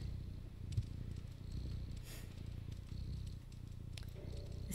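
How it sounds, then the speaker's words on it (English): A cat in the video game Stray purrs in a low, steady rumble that runs continuously throughout, close and soft, with faint rustling and a few small clicks over it. "This cat is constantly purring."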